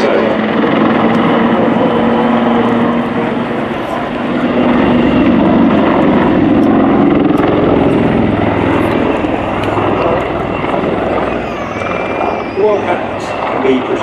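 Royal Navy Black Cats Wildcat helicopters flying a display pair at the RIAT 2024 airshow, a steady loud rotor and turbine roar filling the whole stretch while a commentator talks over it.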